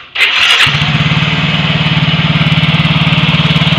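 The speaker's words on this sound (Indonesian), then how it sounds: "belum digas sudah tinggi gas" An automatic scooter engine starts with a short crank, then settles into a steady, fast, high idle with a rapid even pulse, loud and close, with no voices over it.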